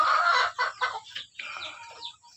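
Young pullets on a small poultry farm cluck and squawk in a short burst of close, bright calls with brief gaps, no talking.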